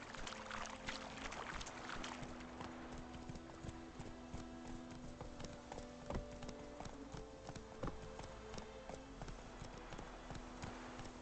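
Geralt's horse Roach trotting in The Witcher 3: Wild Hunt, a steady run of hoof clops over ambient outdoor game sound, with occasional sharper knocks.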